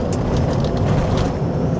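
A 1998 Toyota Hiace Toyoace diesel truck with a 3L engine and five-speed gearbox cruising at about 50, steady loud cabin drone of engine and road noise, continuous and close.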